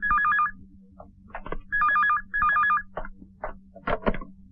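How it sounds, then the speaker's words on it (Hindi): A telephone rings in repeated warbling electronic bursts, three rings spaced about a second apart, loud and close, followed by scattered clatter and movement in an indoor scene. "साहब, एमएलए साहब का फोन है।"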